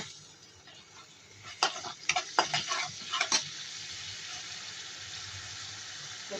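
Onion-garlic paste drops into hot oil in a wok, setting off a flurry of loud pops and crackles that settle into a steady, close sizzle.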